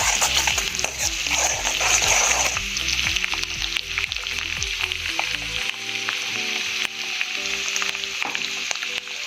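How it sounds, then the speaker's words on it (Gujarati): Crushed ginger stirred as it fries in a pan for street-style cheesy paneer gotala, with a steady loud sizzle and repeated scraping strokes of the spoon, heard alone without voices. "ત્યારબાદ ક્રશ કરેલું આદુ એડ કરીશું અને બરાબર હલાવીશું."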